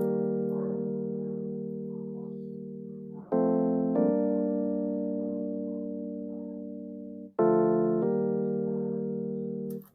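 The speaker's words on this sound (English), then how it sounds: "I added Launch Lizard for the chords." Sustained synth chords from the Launch Lizard preset number 7 in an Afro house track, three long held chords that each start loud and slowly fade.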